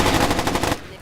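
Automatic gunfire in Splinter Cell Chaos Theory rattles off in a fast, loud, evenly spaced burst and then cuts off abruptly.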